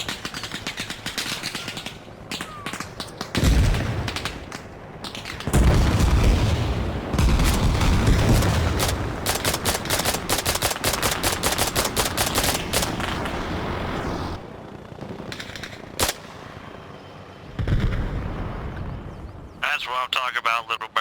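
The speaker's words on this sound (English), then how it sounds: "I then started hearing shots in the distance, enemy vehicles" Distant gunfire and explosions in the military shooter game Arma Reforger, irregular bursts and booms echoing over a busy battlefield, with voices and radio chatter over parts of it.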